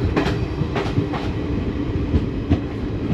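An Indian Railways Mysuru–Talaguppa Intercity Express runs steadily, a continuous low rumble of wheels and carriages with repeated rhythmic clacks from the rail joints, heard close from on board.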